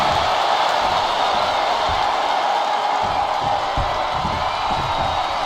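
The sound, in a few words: wrestling arena crowd cheering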